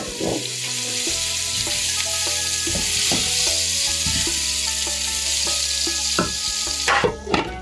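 Potatoes fry in oil in a pan on a gas stove, a loud constant sizzle with scattered clinks and scraping throughout, no voices.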